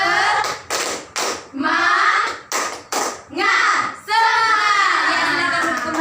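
Schoolchildren in a civics class do a rhythmic spirit clap, several sharp grouped bursts of hand claps separated by short pauses, with young voices chanting along and a final longer stretch of voices.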